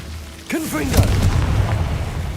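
A Confringo blast spell goes off in Hogwarts Legacy: a sudden booming burst with a brief rising whoosh, then a rumbling crackle that sustains loudly to the end.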